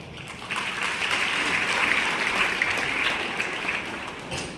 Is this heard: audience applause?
yes